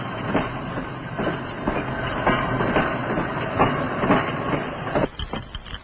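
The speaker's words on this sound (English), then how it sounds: "The first train leaves the station." A train leaving the station in 1959 Tel Aviv rumbles and clatters along the rails with rhythmic clickety-clack beats and a steady hiss, fairly close and continuous, easing off at the end.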